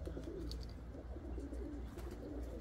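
A flock of white pigeons coos softly at close range, low repeated throaty calls over faint wing flutters and light background noise, quiet throughout.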